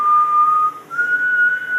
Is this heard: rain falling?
no